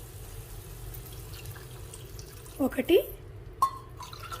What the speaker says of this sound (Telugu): ఈ కప్పుతో నేను 3 కప్పులు నీళ్లు పోసుకుంటున్నాను.